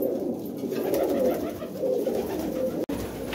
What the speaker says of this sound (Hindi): ये वाइट बार फीमेल है, प्लेन कबूतरी है माशाल्लाह